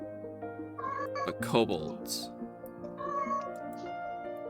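A cat meowing several times in quick, drawn-out cries, close and clear, mixed with someone talking over it.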